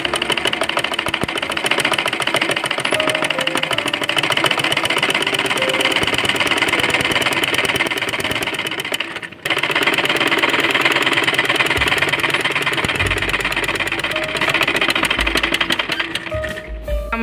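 A sewing machine stitching a child's umbrella frock runs in a fast, steady mechanical chatter, pausing briefly midway before resuming, then slowing near the end with a few low thumps as the fabric is handled.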